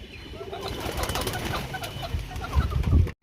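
Pigeons gather close by, including a red one, with soft cooing, rustling and wing flaps, ending in a louder burst of flapping.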